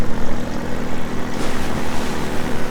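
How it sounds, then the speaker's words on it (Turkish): Helicopter in the game Half-Life 2, running a cinematic mod: a loud, close, rhythmic thumping of rotor blades pulsing steadily over a dense whooshing roar. "Canımızdan bezdirdi bizi o helikopter ya."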